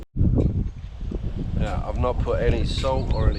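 Wind buffets the microphone with a steady low rumble while a person talks over it.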